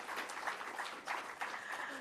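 An audience gives a round of applause at a public sector debate competition launch, moderate clapping in uneven pulses that stays fairly soft throughout.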